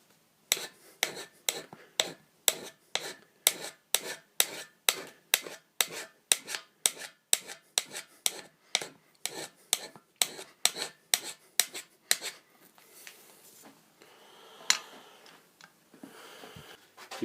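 A modified hand scraper scrapes a metal surface in a fast, even series of about two dozen sharp rasping strokes, close and loud, then a few quieter scrapes and handling sounds, with no talking.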